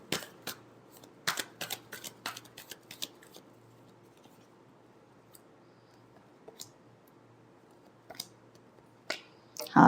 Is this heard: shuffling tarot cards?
yes